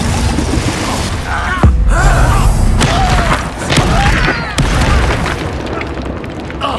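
Confringo explosion spell in Hogwarts Legacy, loud booming blasts with sharp cracks and rumbling mechanical noise, several impacts in quick succession, spoken voices audible in the mix.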